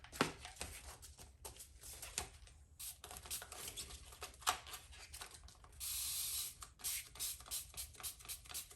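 Hand spray bottle spritzing leather for a quilted design, quick bursts of soft hiss among rubbing and handling noises, plus one longer spray near the end, close and fairly quiet.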